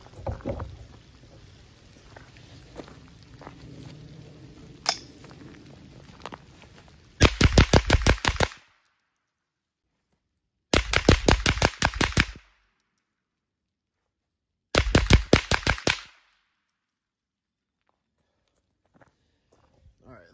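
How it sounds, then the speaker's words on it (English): Rifle fired in a rapid nine-round drill: three tight bursts of sharp, loud shots in quick succession, separated by pauses, after some quiet handling noise and faint movement. "I'm gonna fire the rounds, and I want you to watch how I shoot fast"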